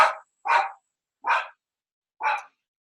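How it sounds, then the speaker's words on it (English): A dog barks four times in a row at a steady pace, each bark loud and close and separated by a short silence, with no other sound underneath. "There's my dog, sorry."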